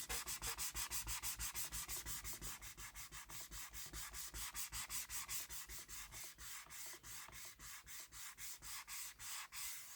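Small dry erase board eraser rubbed back and forth in quick, steady strokes, a soft rhythmic scrubbing that repeats dozens of times, close and fairly quiet with no talking.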